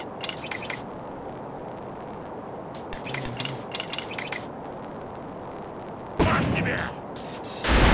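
Gunfire from Killzone Liberation comes in several rapid bursts separated by pauses, with the loudest volley near the end over steady background game noise.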